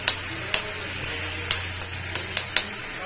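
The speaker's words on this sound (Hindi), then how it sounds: "और इसको मिक्स करेंगे, मसाले को भून लेंगे" A spice masala for sev tamatar sabji frying in a pan, a quiet hiss under a steady hum, with several sharp clicks and scrapes of a spoon against the pan.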